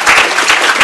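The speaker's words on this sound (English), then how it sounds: "Yes, you all clap." A brief, loud burst of audience clapping at a development award ceremony: dense, overlapping hand claps close by, with no speech.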